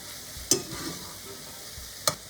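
Eggs with zucchini cooking slowly over medium heat in a pan, a soft, low sizzle broken by two sharp utensil clinks or pan knocks about a second and a half apart.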